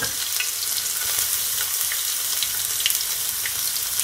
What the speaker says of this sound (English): allow it to saute for at least 1 minute or so